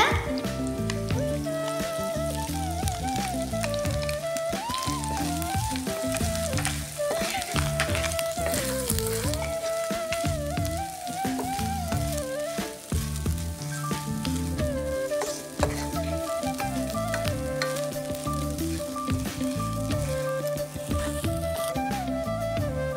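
Grated coconut frying and being stirred in a pan for village-style coconut rice: a steady sizzle runs throughout, largely covered by loud, continuous background music.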